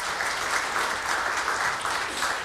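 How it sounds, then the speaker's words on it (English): An audience at a community commemoration event claps in a dense, even round of applause, steady and fairly close, with no talking over it. "So a round of applause for them again"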